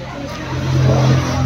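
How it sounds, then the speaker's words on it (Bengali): Cars of a Sunday drive group pull away together after a tea break near Vatadahosahalli Lake outside Bangalore, a steady engine rumble swelling as they depart, close and continuous. "সব গাড়িগুলো বেরোচ্ছে আমাদের সানডে অন হুইলস এর"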